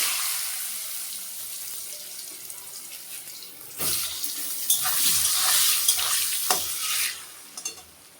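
Potatoes frying in a pan with dried red chilies and cumin seeds, a continuous close hiss and sizzle with several sharp stirring bursts and scrapes in the second half.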